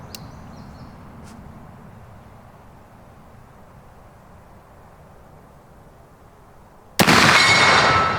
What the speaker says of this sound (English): it's a really rewarding sound because it's such a nice rifle